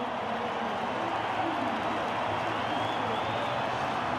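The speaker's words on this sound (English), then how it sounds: "that has got the crowd back roaring." A packed rugby stadium crowd in a New Zealand All Blacks versus South Africa match gives a dense, continuous roar that holds steady and loud throughout, with no breaks.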